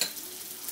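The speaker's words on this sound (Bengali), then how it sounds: "এক 2 মিনিট এটাকে একটু তেলের মধ্যে নাড়ছি" Chopped onion and garlic sizzle steadily in hot oil while being stirred in a pan, a brief, even frying hiss close to the mic.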